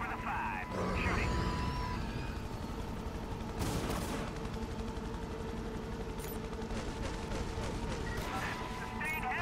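Dense bursts of gunfire and heavy explosive blasts crackle through a combat scene in the video game Prototype, sustained and loud over a constant background rumble.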